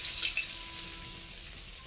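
Soft, steady hiss and sizzle of cut potatoes frying in oil in a home kitchen, faint and continuous, with a brief brighter splash near the start.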